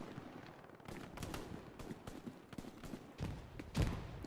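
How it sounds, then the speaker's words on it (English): Long-range machine gun fire in the Hell Let Loose video game, scattered distant bursts and thuds popping irregularly through a busy battlefield din, with a heavier thump near the end. "Long-range MG from Ermaluk."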